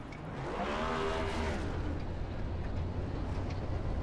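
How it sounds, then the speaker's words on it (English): A NASCAR Cup Series race car at Daytona roars steadily, its engine droning loud and continuous with a brief rising sweep as it runs past. "just listen to this engine roar"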